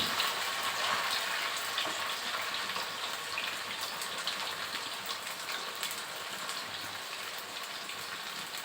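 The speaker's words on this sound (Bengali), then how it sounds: "এটা একটু হালকা হালকা ভেজে নেব।" Vegetables frying lightly in a pan give a steady, close, even sizzle that holds through the whole stretch, with no talking.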